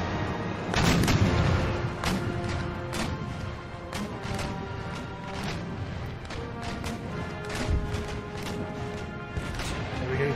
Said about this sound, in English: is in position to be able to fire off broadside as she pleases.